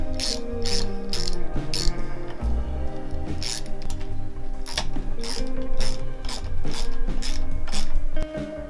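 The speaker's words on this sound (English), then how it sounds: "Let's get the ratchet and the 10mm. Loosen, tighten." A ratchet with a 10mm socket works bolts loose and tight on a Yamaha XV750 motorcycle during a handlebar install, giving steady rapid clicking bursts that repeat close up throughout.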